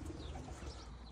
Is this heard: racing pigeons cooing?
yes